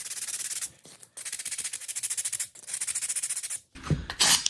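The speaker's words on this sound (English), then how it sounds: "fit it in the L shape of my stairs and sand the surface of each side" A sanding block rubs back and forth over the surfaces of small wooden model stairs in three close, rhythmic bursts of rapid scratchy strokes, separated by brief pauses and ending with a clunk of handling.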